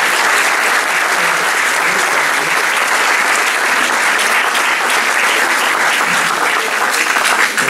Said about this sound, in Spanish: yo para él voy a pedir un aplauso muy grande